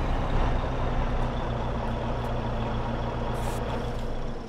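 A truck idles in Farming Simulator 22 with a steady, loud, droning engine rumble, joined by a brief hiss of air near the end, and no voices.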